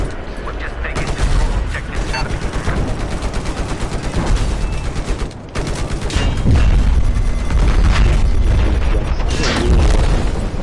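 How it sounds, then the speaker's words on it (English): Dense, loud gunfire and booming blasts in the video game Battlefield 4, with rapid automatic bursts continuing almost nonstop and a brief lull midway. "Hey dude, stop shooting."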